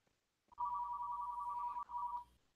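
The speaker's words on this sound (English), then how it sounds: "Somebody has a phone ringing." A telephone rings with a steady electronic trill at moderate volume, one long burst and then a brief gap before a second, shorter burst, heard on its own in a quiet room during an online discussion.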